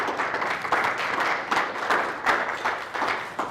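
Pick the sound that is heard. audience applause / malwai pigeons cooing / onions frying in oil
audience applause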